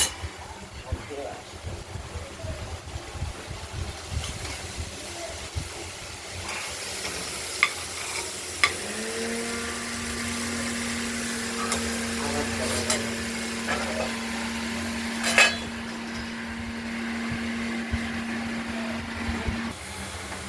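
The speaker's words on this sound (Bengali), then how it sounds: "আমরা কড়াইয়ের ঢাকনাটা খুলে আবার নেড়ে চেড়ে দিলাম।" Sliced sweet pumpkin frying in oil in a kadai is stirred, with scraping clatters over a soft sizzle, a lid clanks, and a steady low hum runs through much of it.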